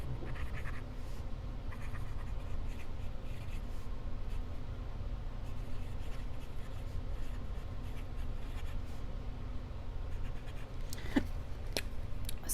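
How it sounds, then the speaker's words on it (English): A fountain pen writes on textured paper, soft continuous scratching strokes close to the microphone over a faint low hum, with a couple of sharper ticks near the end and no talking. "I do still feel like my pens are just gliding"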